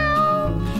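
A person imitates a cat's meow in a single drawn-out, close, clear vocal meow with no other talk.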